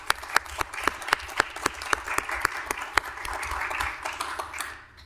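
A round of applause from people at a city council meeting, with a few loud, distinct nearby claps standing out over broader clapping that swells and then fades at the end.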